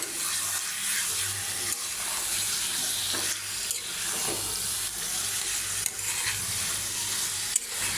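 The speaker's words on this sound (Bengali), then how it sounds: "এভাবে আমি 2 থেকে 3 মিনিট কষাই নেব।" Raw, unfried fish sautéing in hot spiced oil: steady sizzling and frying, with occasional scraping and stirring sounds close by.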